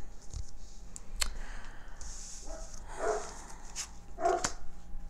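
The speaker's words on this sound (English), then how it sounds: "Hear the dog barking." A dog barks a few times in the distance, scattered single barks separated by quiet background noise.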